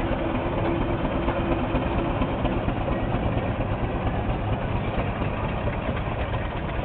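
A Tasker Little Joe steam traction engine runs in an arena at a steam rally, giving a steady, dense rumbling and hissing noise that stays constant and fairly loud throughout, with no talk over it.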